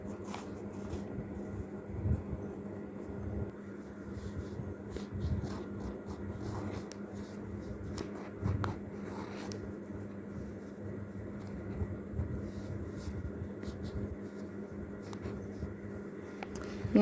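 A pen writes Arabic letters on paper while a protective naqsh is drawn. Soft, faint scratching strokes run continuously over a quiet room hum, with small bursts as each letter is formed.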